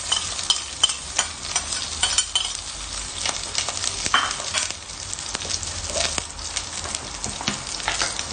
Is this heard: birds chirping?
no